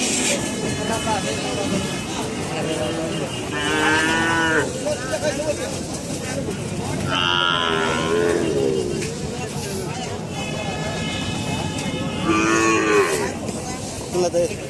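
Cattle moo several times at a cattle market, loud and close, their drawn-out calls rising over a steady background of crowd chatter.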